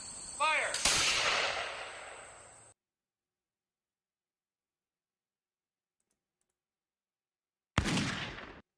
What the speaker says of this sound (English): one of them sounds like a musket and the other one sounds like a rifle